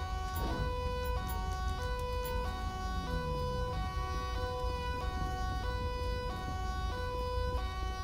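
A police siren wails in the video game GTA 5 during an LSPDFR traffic stop, a steady two-tone cycle repeating loudly throughout with a low engine rumble underneath.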